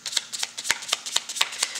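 Tarot cards being shuffled by hand, giving a quick run of crisp riffling flicks and taps in an irregular rhythm, close and fairly loud with no speech.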